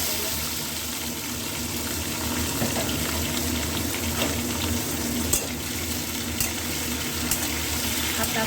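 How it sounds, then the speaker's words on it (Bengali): Teasel gourd and pointed gourd sizzle in hot oil in a home kitchen, a steady hiss with soft crackles running the whole time, fairly close and alone. "কাঁকরোল আর পটল কেটে রেখেছি, এগুলো একটু তেলে ভেজে নেবো"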